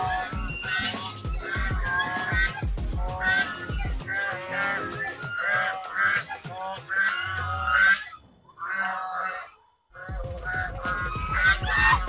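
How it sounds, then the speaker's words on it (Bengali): Geese honk in a park at Amarabati Park, New Digha, in loud repeated calls close by, with a short lull before the honking resumes. "এই দেখুন রাজহাঁস"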